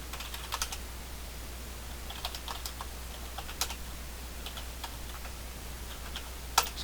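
Typing on a computer keyboard at a network configuration console, a brisk scattering of light close clicks and taps over a low steady hum, with no talk.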